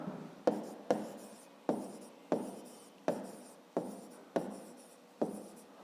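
A pen scratches across paper while doing fifth-grade math homework, a series of about eight short, evenly spaced strokes, close and quiet.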